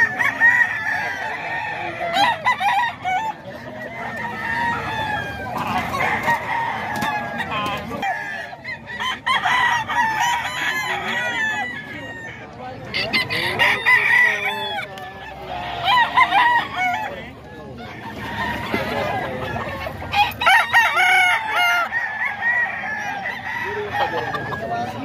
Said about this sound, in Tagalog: Ayan yung mga manok ni Boss Eric, mga ka-idol.